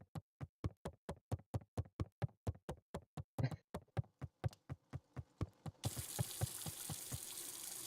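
A water tap is turned on in the video game Beacon Pines: a long run of steady, evenly spaced knocks gives way to a continuous hiss of running water near the end.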